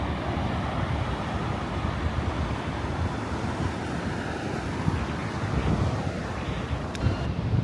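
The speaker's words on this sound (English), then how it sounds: "That's the sound of the waves crashing against the sand" Continuous roar of winter surf breaking on the sand at Bridlington, steady and broad, with wind buffeting the microphone throughout.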